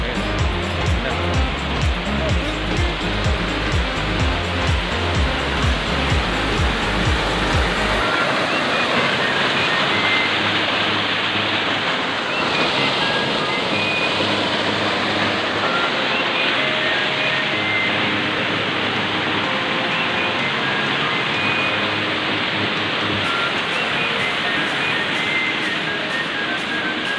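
A waterfall at San Mateo, Rizal, roars as a loud, continuous broadband rush of falling water, steady and close for the whole stretch with a low rumble underneath early on.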